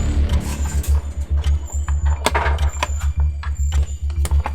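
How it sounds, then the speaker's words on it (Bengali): A screwdriver tightens small nuts on a battery holder, making a fast run of rhythmic mechanical clicks and ticks close by, with a few sharper taps among them. "এই নাট দুইটা এখানে সেট আপ দিয়ে নিতে হবে স্ক্রু ড্রাইভারের মাধ্যমে"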